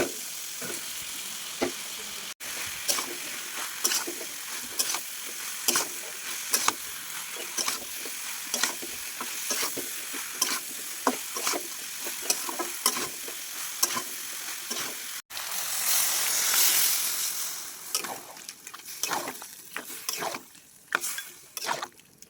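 Fish heads and jackfruit fry in hot oil in a pan, sizzling continuously while a spatula stirs and scrapes in repeated knocks, with a louder hiss surge midway.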